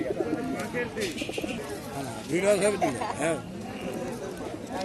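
Sirajee and Giribaz pigeons coo and flutter in a busy pigeon market while people talk nearby, their voices often louder than the birds.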